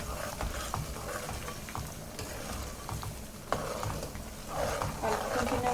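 Mutton pieces frying and foaming in peanut oil, a low continuous sizzle with occasional stirring scrapes and bubbling bursts, fairly faint, with someone talking over it.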